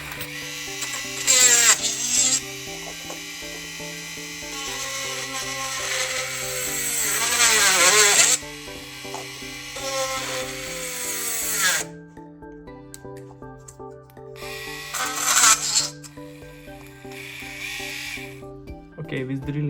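A small handheld mini drill whines as it bores little holes into plastic, with high-pitched bursts of rising and falling speed separated by quieter pauses, and a voice speaking over parts of it.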